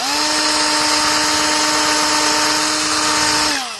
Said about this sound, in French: Donc tu prends ta mèche, ta perceuse.